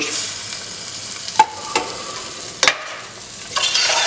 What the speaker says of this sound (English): So that's the base gravy heating through